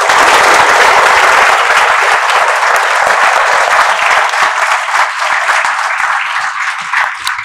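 Civil services students at an IAS academy give a long, loud round of applause for an IPS officer, dense clapping from a large crowd that slowly thins out.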